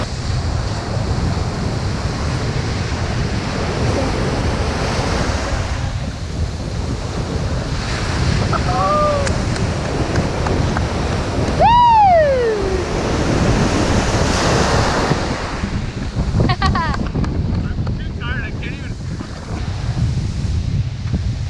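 Big ocean waves crash near a beach in Bali as steady loud surf with heavy wind noise, and a brief whistle-like tone rises over the roar partway through.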